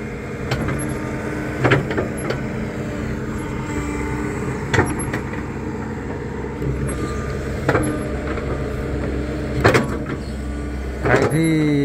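A hydraulic excavator's engine runs at a steady, continuous drone throughout, with occasional sharp clanks and knocks from the machine breaking through the hum.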